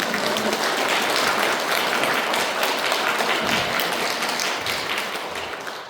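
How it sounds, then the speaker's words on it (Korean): A church congregation at a Won Buddhist temple claps steadily, a dense, even wash of applause filling the whole stretch without pause. "박수 한번"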